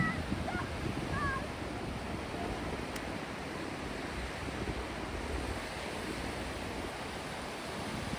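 Steady rushing surf of sea waves on Awas Beach near Alibag, a long, wide, quiet shore, broad and continuous, with wind noise and a couple of faint bird chirps early on.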